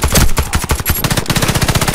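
A SCAR-H rifle in the shooter game Warface fires in rapid sustained automatic bursts, loud and close, with dense evenly spaced shots and no talk over them.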